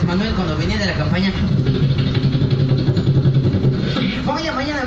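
Mimicking a politician's campaign helicopter with the mouth, a voice makes a pulsing, rhythmic rotor-like chop in the low range that builds in the middle, over ongoing background noise.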